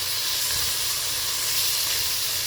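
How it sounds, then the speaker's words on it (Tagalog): Pork fat sautéing in its own rendered oil for a pork and jackfruit dish, a steady loud hiss and sizzle with no pauses, close to the pan. "Yung tinatawag na ginisa sa sariling mantika"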